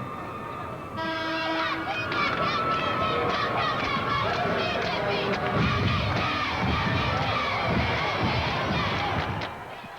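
High school cheerleaders from Minnewaukan shouting a quick cheer at a 1990 North Dakota girls' basketball state game, a loud chanted crowd of young voices after a brief tone, echoing in a gym with crowd noise.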